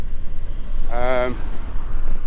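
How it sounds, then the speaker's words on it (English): A brief high-pitched squeal of bicycle brakes, about half a second long, rising over steady road and wind noise. "sorry, bit of noisy brakes"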